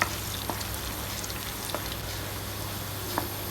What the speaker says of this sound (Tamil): ஒரு பெரிய வெங்காயத்தை கட் பண்ணி வச்சுருக்கிறேன். அதை போட்டுட்டு வெங்காயத்தை நல்லா வதக்கி விட்டுறலாம்.